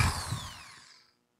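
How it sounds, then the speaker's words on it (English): A power drill bores a hole through a wooden Native American style flute body, a short close burst of whirring and grinding that winds down and stops after about a second. "stand up, and drill."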